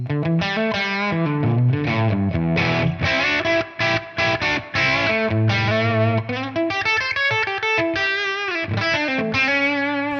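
Distorted electric guitar through ToneX amp model tones, playing a melodic riff with sustained, harmonically rich notes and a few brief pauses, loud and close with no talking.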